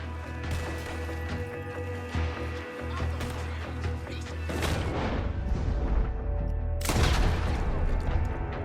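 Gunfire and explosive booms in Red Dead Redemption 2 during a Civil War-themed mission, a dense rumbling game mix with heavy crashing blasts building in the second half and a loud burst near the end.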